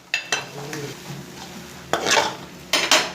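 Chicken green spaghetti being stirred in a pan over low heat, a few scraping, clattering strokes of a utensil against metal over a soft sizzle, close and without voices.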